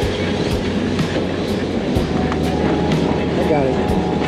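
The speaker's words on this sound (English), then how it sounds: "Look at that old locomotive there, number 53, CWR" At a steam festival, old locomotive number 53 of the CWR sits amid a continuous dense rumble and rhythmic clicking thuds roughly every half second, loud and near, with someone talking over it.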